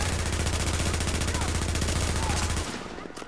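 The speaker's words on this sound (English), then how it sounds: "He's shooting at me from that far away." Sustained rapid automatic gunfire in the snowy Dark Zone of the video game The Division, a dense, loud, continuous burst that cuts off abruptly near the end, leaving a quieter tail.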